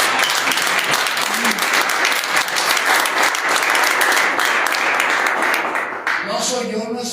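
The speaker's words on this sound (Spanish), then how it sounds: "Démosle un fuerte aplauso al Rey." A church congregation applauds loudly and continuously for several seconds, and a voice begins speaking near the end as the clapping continues.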